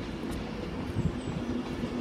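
A train pulls into a platform at Edinburgh station. Its low, muffled rolling rumble carries a faint, thin wheel whine, heard quietly at a distance with no voices.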